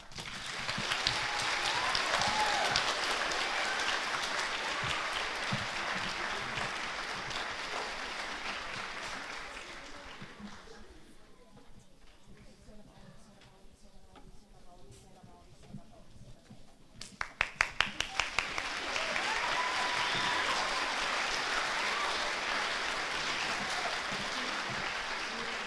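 An audience at a school spring orchestra concert claps for student string players, a long stretch of loud, dense applause that dips into quieter murmuring midway, then surges back with a few sharp claps and continues strongly.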